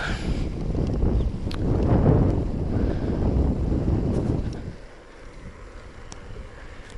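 Steady wind buffeting the microphone in Mongolia, a low rumbling roar that swells and then eases toward the end.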